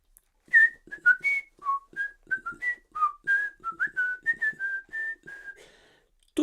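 A person whistles a lilting tune, a quick run of clear, bright notes rising and falling in short phrases, close and fairly soft, with no talk over it.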